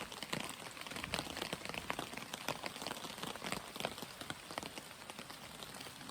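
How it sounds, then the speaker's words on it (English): Steady rain patters on a surface, dense and even, with scattered sharper drops throughout and no voices. "It's raining again, folks."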